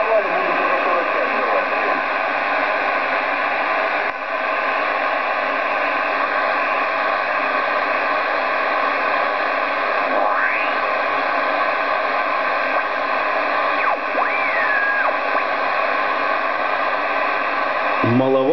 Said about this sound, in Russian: Вот еще одна станция работает.